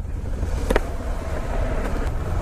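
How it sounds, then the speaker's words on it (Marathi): Road traffic rumbles past during a monsoon motorbike ride from Mumbai to Kolhapur, a steady low engine and tyre wash mixed with wind buffeting, with a couple of brief sharper passing noises. "नाव काढलं ट्रॅफिकचं आणि ट्रॅफिक हजर"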